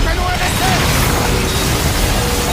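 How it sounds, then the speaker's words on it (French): Cannon fire and explosions in the video game Call of Duty: Infinite Warfare, dense, loud booming rumble filling the whole moment. "Allume le canon"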